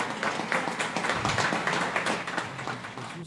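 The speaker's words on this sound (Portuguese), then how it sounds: "Suas palmas podem exaltar o nome desse Deus vivo" A church congregation claps hands together during a family worship service, a dense, steady patter of many hands filling the room at moderate loudness.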